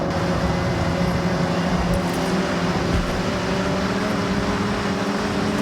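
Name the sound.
Toyota Celica car engine in the video game Forza Horizon 6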